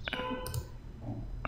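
Mouse clicks during photo editing in Photoshop, a few sharp close clicks at the start and end with quieter handling in between, no talking.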